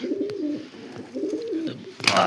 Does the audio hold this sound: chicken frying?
no